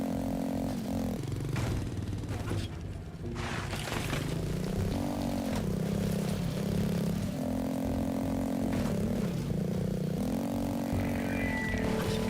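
Motorcycle engine in the game Laika: Aged Through Blood, a steady droning rev with shifting pitch and bursts of throttle, mixed with clattering game effects and a music-like tonal bed throughout.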